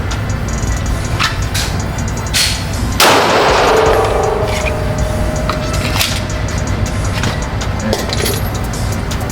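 A Gen 5 handgun with a red dot sight fired at an outdoor range: one loud, sharp pistol report that rings out and decays, set among steady ambient noise and scattered clicks of other shooters nearby.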